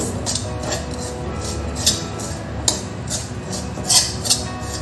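Dry date powder being roasted and stirred in a pan over low heat for a few minutes, giving steady scraping and light metallic clinks of the spoon against the pan, with no talking.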